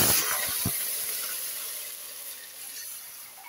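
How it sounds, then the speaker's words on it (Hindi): A loud, steady hiss of water poured into hot oil with cumin seeds, with a few brief crackling pops at the start before settling into a continuous sizzle. "तो हम इसमें पानी डाल देंगे।"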